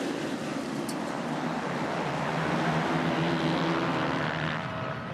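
A gate full of 450cc motocross bikes revs together at the start of a pro race at Fox Raceway, a dense, loud, sustained engine roar with no talk.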